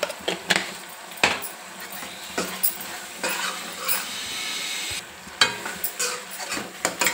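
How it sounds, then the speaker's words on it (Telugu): Masala spices with salt and coriander powder fry in a pan for capsicum curry, a steady sizzle broken by repeated scraping and clinking as a spoon stirs against the metal, with no one speaking. "ఈ మసాలా మంచిగా కలిసిపోయింది, అంత వేగింది కదా."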